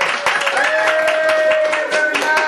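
A child claps hands in a few quick, close, sharp claps at a therapy table, with light tapping and a brief bit of adult talk around them.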